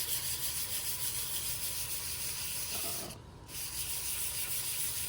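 An RV wheel bearing surface is sanded by hand in circular motion, giving a continuous close, hissing rub with one short pause partway through.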